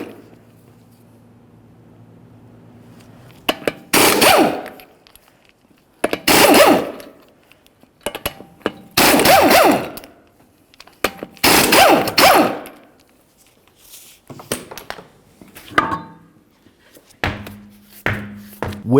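Lug nuts coming off a Mercury Grand Marquis front wheel: repeated loud bursts of a rattling impact wrench in separate spells, with short clanks and quiet gaps between them.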